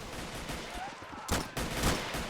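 Gunfire in the Army Men: Plastic Wars video game, a steady crackle of distant automatic shots with a louder burst in the middle, in continuous battle noise.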